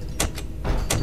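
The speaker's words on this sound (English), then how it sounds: "Close both the doors real quick until we find where they are." Heavy security doors slam shut in a 3D remake of the horror game Five Nights at Freddy's, several loud, close mechanical clunks in quick succession over a constant low hum.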